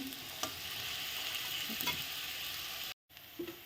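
A whole green chili frying with other ingredients in a pan for a paneer dish, a steady close sizzle with a few stirring scrapes and a brief cutout near the end.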